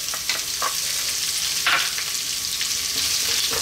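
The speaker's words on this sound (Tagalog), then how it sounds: "ngayon naman, lalagyan na natin yung ating sibuyas" Onion frying in a hot pan while creamy clams are being cooked, giving a steady, close, bright sizzle with occasional stirring scrapes and no talking.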